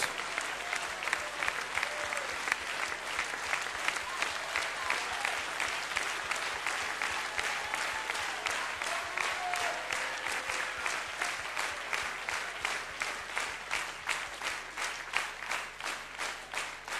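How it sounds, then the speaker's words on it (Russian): A church congregation applauds at length, a loud, steady wash of many hands clapping that keeps an even rhythm throughout with faint voices underneath. "Тебе наши аплодисменты, тебе наши слова благодарности."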